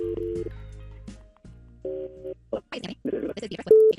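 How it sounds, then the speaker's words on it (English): A telephone call being placed on a roses call-in segment: steady electronic dial and ringback tones in pulses, followed by choppy voices and a short beep at the end. "Let's make the phone call right now."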